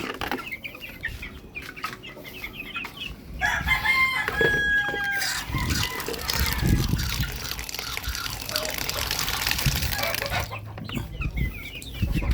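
Free-ranging backyard Oriental chickens of the J-Series strain, J47 crossed with J45, crow and cluck loudly and close, with overlapping calls over a busy outdoor background.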